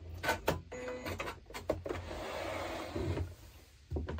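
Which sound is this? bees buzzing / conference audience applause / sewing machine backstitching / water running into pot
sewing machine backstitching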